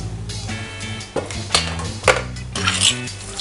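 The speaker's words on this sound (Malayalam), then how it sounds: "എന്നിട്ട് നമ്മൾ മിക്സ് ചെയ്യുക" A utensil mixes Kerala aviyal vegetables, drumstick and mango, with salt in a metal pot. Loud, close clanks and scrapes come in irregular bursts, with ringing metallic knocks and no speech.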